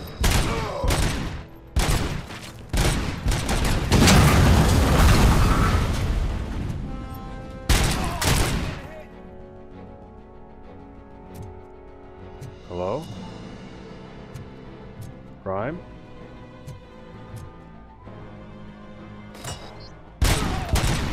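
Robocop's gun in Robocop: Rogue City fires loud, dense bursts of gunfire, heaviest in the opening seconds, then short sporadic shots over game music and effects, with another sharp burst near the end.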